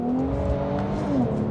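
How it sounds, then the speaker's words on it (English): An Infiniti Q50's VR twin-turbo engine revs up and falls back on a downshift, a smooth, close, moderately loud tone with faint whir underneath and no talking. "It's not like the most exciting sounding engine, this VR twin turbo."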